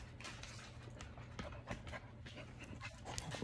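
Two dogs pant rapidly and steadily while playing together indoors, a close, continuous breathy rhythm with faint scuffling footfalls and no talking.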